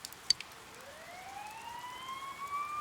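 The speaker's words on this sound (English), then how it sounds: "You hear sirens nearby." Emergency sirens nearby in the game Persona 4 Golden, a faint rising wail that swells gradually after a few soft clicks, growing slightly louder toward the end, with no voices.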